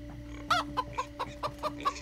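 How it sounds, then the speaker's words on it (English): A chicken in the video game Minecraft Story Mode clucks in a steady series of about eight short, evenly spaced clucks over a faint background hum, moderately close, with no talk. "Fucking chicken."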